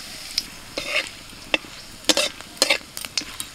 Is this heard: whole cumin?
yes